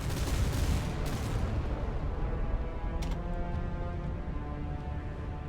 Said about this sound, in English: That Slava got hit by a lot of missiles.